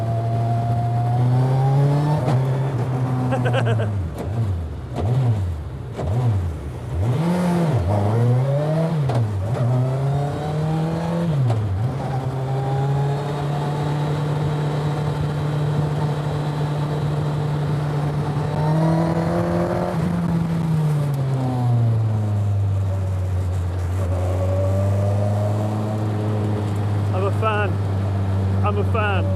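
The Suzuki Hayabusa motorcycle engine in an MK Indy RR car revs and accelerates, with rising and falling tones through gear changes and then a sustained high drone, loud and close throughout.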